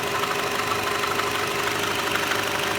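A 20-year-old Renault Clio's 1.2 litre 16 valve petrol engine idles close by with the bonnet open, giving a steady, even mechanical hum and whirr with no changes in pitch.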